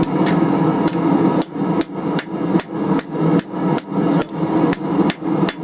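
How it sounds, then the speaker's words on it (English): Quick, evenly spaced light hammer strikes ring out on steel while straightening a forged chisel, about two per second, sharp and close with a slight metallic ring. "Nice light hammer blows."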